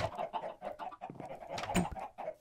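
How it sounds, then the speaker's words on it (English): A Minecraft chicken clucks in short, choppy bursts, close and moderately loud, within a modded game with faint background game sounds. "Yeah, there's a chicken."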